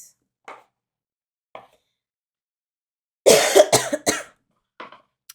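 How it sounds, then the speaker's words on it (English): A person coughs in a quiet room, one harsh burst of two or three quick coughs in the middle, with faint scattered clicks and small sounds before and after. "I will be coughing a lot"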